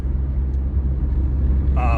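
A Honda Accord engine revving hard under acceleration with gear shifts near 4,000 rpm, a loud, steady low rumble with a rattly edge throughout, and a brief higher tone entering at the end.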